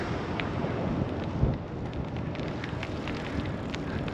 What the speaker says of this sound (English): I can hear the wind as I'm driving by.